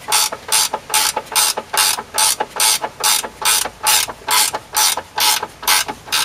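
Ratchet tightening a lower control arm nut on a Hyundai i20, rapid repeated clicking bursts in a steady back-and-forth rhythm, close and crisp with no talk.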